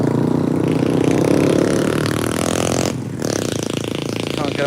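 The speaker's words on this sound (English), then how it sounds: "no matter where I go, there's always a lot of these noisy motorbikes" Noisy motorbikes passing along a city street, a loud buzzing engine drone with shifting revs and clattering, briefly dipping before another bike roars by close up.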